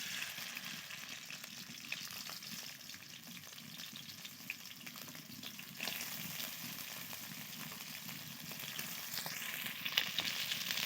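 Local sand crabs fry in a pan with no added oil, a steady, soft crackling sizzle that holds throughout with occasional small pops, heard close but at low volume.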